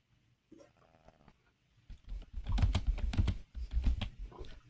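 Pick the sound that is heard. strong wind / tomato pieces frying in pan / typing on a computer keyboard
typing on a computer keyboard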